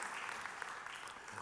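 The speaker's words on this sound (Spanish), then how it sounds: "Le da ese aplauso fuerte a Él" A church congregation claps and applauds together during a Spanish-language sermon, a dense, faint burst of clapping heard from a distance with a voice faintly underneath.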